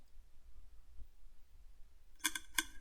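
A Minecraft redstone mechanism clicks twice in quick succession near the end, sharp and distinct against near silence.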